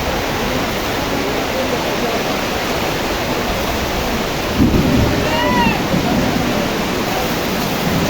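Heavy rain pours in a steady, loud roar, with a brief deeper rumble partway through and a few faint high chirps.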